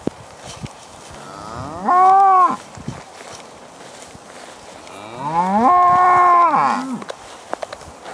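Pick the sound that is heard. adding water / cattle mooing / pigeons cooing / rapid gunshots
cattle mooing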